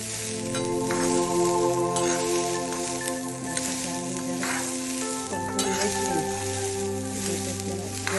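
Loud, crackling sizzle of spices tempering in hot oil, with stirring and scraping sounds throughout, close up and continuous.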